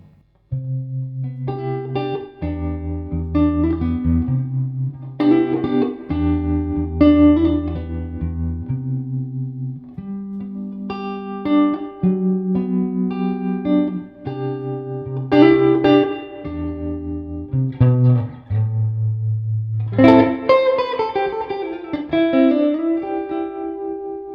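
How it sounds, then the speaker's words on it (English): Clean electric guitar, a Broadcaster through a Suhr Hombre amp on its bright channel without amp compression, plays sustained chords and single-note lines with a splashy spring reverb tail from a Strymon Volante pedal, loud and continuous throughout. "if I go back to having the bit of spring reverb from the Strymon Volante"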